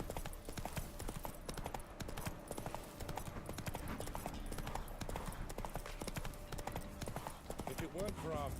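Steady clip-clop of a horse's hooves in The Witcher 3, a continuous trotting rhythm under game music and effects, with a short whinny-like sound near the end.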